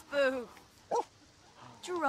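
A pet dog in The Sims 4 makes three short, close barks and yips spaced across the moment, with a quiet room tone between them.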